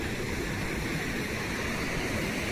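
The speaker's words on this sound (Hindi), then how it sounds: "सरौदा बांध डैम के गेट यहाँ से खुलते संगवारी हो" Water rushes from the opened gates of Saroda dam into a canal, a steady, loud broadband roar that stays constant throughout with no talk over it.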